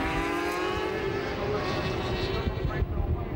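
A superbike racing motorcycle at Donington in 1993 British Superbikes racing goes through the S's, a loud engine whine that rises and falls as it passes, with a commentator talking over it.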